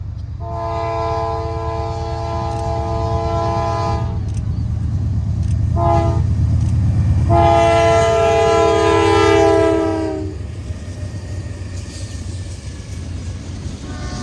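Norfolk Southern freight NS 9824 rolls south through Fostoria, Ohio, its horn blaring in long blasts with short breaks over a steady low rumble of rail cars, close and loud, fading slightly at the end.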